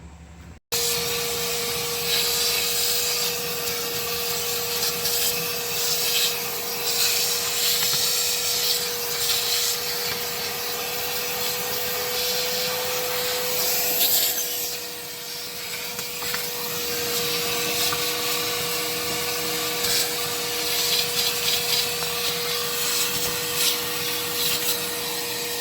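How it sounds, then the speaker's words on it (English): A vacuum cleaner runs steadily and loudly for the whole stretch while cleaning debris out from around a 1985 Ford F250's 6.9 IDI diesel engine, with a brief dip in level midway but no talking. "I can vacuum some of that out of there."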